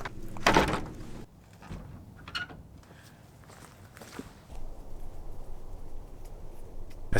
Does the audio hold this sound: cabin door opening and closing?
yes